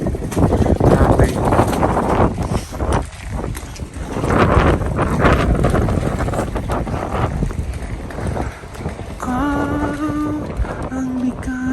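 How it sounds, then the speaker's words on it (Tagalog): Strong cold wind gusts buffet the microphone outdoors at Amalienborg Palace in Copenhagen, a broad steady roar throughout, with people talking nearby and a brief tonal sound near the end. "So malakas ang hangin"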